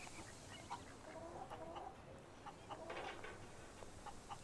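Chicken clucking in the Fable 3 video game, a racing chicken among other chickens: faint, scattered clucks and short calls over a steady ambient game background, with no talking.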